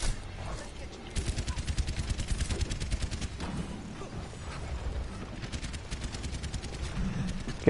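Rapid automatic gunfire from the shooter game Overwatch, fast mechanical bursts of closely spaced shots in two main volleys, loud and near, with a voice speaking briefly around them.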